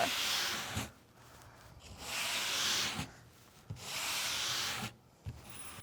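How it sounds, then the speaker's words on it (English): Wooden board for a painted Christmas tree farm sign being hand sanded, with three long, close, rasping strokes separated by short pauses and soft taps between them. "Now that I've sanded the whole board"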